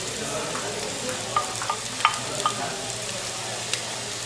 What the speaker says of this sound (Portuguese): Deixar fritar.